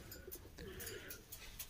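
Pigeons cooing softly at close range over a steady low background hum, with no talking.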